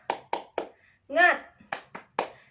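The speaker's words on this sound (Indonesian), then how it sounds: "Mari kita tepuk tangan semangat bersama." Children doing the tepuk semangat, a rhythmic Indonesian classroom clap, heard as a run of sharp, close claps in a quick pattern with a short vocal chant in the middle.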